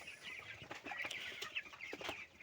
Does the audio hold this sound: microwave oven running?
no